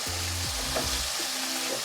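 Chicken frying with dried coriander and cumin, a loud continuous sizzle close up with a short stir scrape and a steady low hum beneath, brief and without talk.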